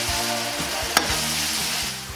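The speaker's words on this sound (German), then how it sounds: "Nebenbei muss ich das Gehackte rumrühren." Minced meat fries in a pot for a cabbage stew, giving a constant close sizzle with repeated low scraping strokes from stirring and one sharp click midway.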